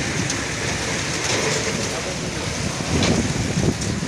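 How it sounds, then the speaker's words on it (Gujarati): Heavy rain and a strong windstorm sweep over Bhayavadar in Gujarat, making a dense, continuous roar of wind and downpour that swells slightly toward the end, with no clear voices. "ભાયાવદરમાં જોરદાર વાવાઝોડા સાથે ફૂલ વરસાદ ચાલુ થયેલ છે."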